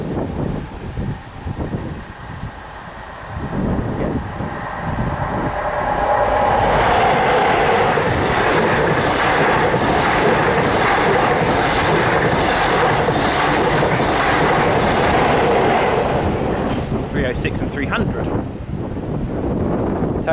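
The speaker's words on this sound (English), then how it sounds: "this will be an HST." An HST high-speed train approaches and roars past the Shepreth Station level crossing. A loud rushing rumble with rhythmic wheel clatter builds over several seconds and holds steady, with wind buffeting on the microphone and brief voices near the start.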